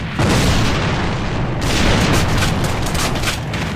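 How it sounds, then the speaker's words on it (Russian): A grenade explosion in a video game, a loud, dense boom that rumbles on for several seconds with crackling debris, close and overwhelming with no talk over it. "Бросаю гранату!"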